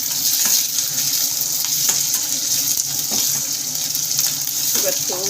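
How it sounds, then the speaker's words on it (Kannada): Onion frying in oil on a stove, a steady hiss and sizzle with faint stirring clicks running evenly throughout, close and moderately loud, with no talking. "ಈರುಳ್ಳಿ ಸ್ವಲ್ಪ ಹೊತ್ತು ಎಣ್ಣೆ ಫ್ರೈ ಆಗಬೇಕಷ್ಟೇ"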